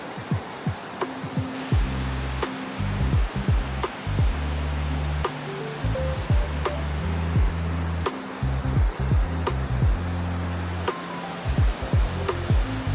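A waterfall in Karangahake Gorge near Auckland, New Zealand, pours in a constant loud broadband rush, with a stepping melodic tune playing over the water noise throughout.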